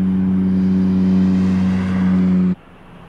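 An airliner takes off at Orlando International Airport with a loud, steady engine roar and a strong low droning hum. The sound holds constant, then cuts off abruptly near the end.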